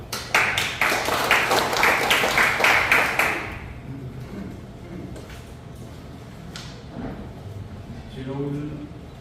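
An audience at a lecture and ceremony applauds for about three and a half seconds, many hands clapping close and loud, then the clapping stops and the room goes quieter with a few faint knocks and a voice near the end.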